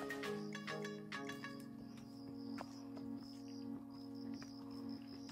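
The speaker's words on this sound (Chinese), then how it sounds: "然后可以听到很多虫鸣，很特殊的虫鸣声。" Insects chirping steadily in a forest recreation area in Kenting, layered trills and buzzing calls repeating without pause, with no voices.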